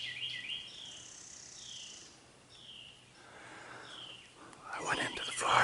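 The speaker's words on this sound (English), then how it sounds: "It's all the different birds sounding off." Faint chirps and calls from various birds in a forest by the shore rise over a quiet, steady background hum, growing slightly busier toward the end.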